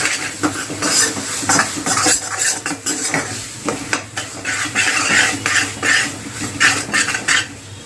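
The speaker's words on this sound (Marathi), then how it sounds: "तेलात थोडी कडीपत्ता घालूया चांगलं मिक्स करून घ्या" Curry leaves sizzle in hot oil in a pan while a spoon stirs and scrapes in repeated bursts, close and fairly loud, for a Marathi-style field bean (val) vegetable dish.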